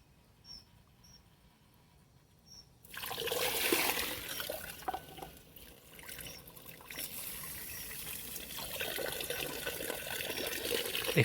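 Water running from a garden hose through a Gardena 8188 hose water meter into a jug, starting abruptly after a quiet moment as a loud rushing, splashing flow that continues steadily, briefly easing before rising again.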